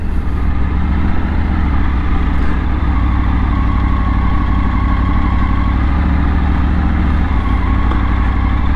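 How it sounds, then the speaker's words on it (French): A Triumph Tiger motorcycle with some kilometres on it rumbles steadily underway at low speed on a countryside road, the engine drone and wind noise loud and constant from the rider's position, with no talking. "Donc là on est de retour avec notre Triumph Tiger"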